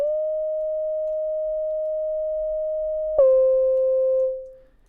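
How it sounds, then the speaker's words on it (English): Mono synth lead holding one pure, sine-like tone, then gliding smoothly into a higher, brighter note that sustains and fades out, alone and fairly loud. "hit the glide so we have that nice smooth transition from that one note to the next"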